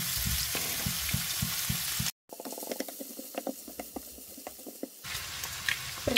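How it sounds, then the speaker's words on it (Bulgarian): Chopped onion and bacon frying in fat in a pan, crackling sizzle with stirring scrapes and pops, broken by a brief silent cut before the frying resumes, close and steady. "Лукчето и бекона се запържиха"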